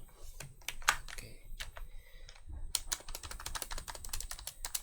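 Rapid, irregular keystrokes on a computer keyboard while typing a document in Microsoft Word 2007, close and steady with brief pauses, no talking.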